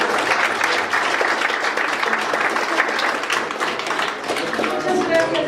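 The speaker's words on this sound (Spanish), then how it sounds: "un aplauso para todos ustedes." Sustained applause from an audience at a talk on safe handling of solvents, dense steady clapping filling the room with a few voices mixed in under it.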